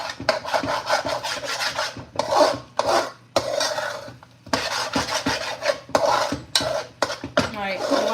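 A spoon scrapes and rubs through black beans and rice in a pot while making morro de habichuela negra with chicken, giving repeated loud rasping strokes in irregular bursts with short pauses between them.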